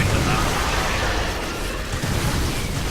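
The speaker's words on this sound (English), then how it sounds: "explosion! Yay!" A video game explosion booms loudly, a dense crackling roar of debris and rumble sustained for a few seconds.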